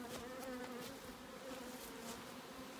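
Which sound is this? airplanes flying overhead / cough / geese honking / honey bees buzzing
honey bees buzzing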